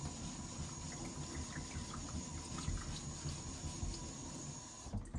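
A gentle stream of water runs steadily while a whetstone is being flattened, a continuous soft close-up hiss and trickle lasting the whole stretch with no talk.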